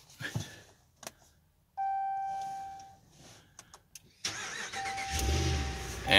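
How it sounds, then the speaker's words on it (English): A car engine starts by remote start after the immobilizer is bypassed: chirps and a sustained tone, scattered clicks, then the engine cranks and catches into a steady idle nearby. "and it starts the engine"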